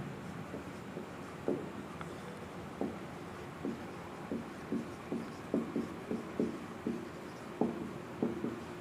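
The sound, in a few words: writing trigonometric ratios on a board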